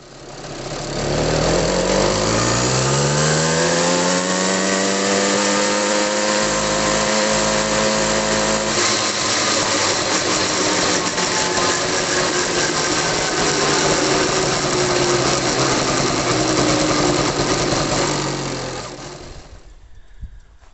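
An 80cc two-stroke motorized bicycle engine fitted with a KX85 dirt bike muffler runs loud and close, revving up and holding a high, raspy buzz for about twenty seconds before cutting off.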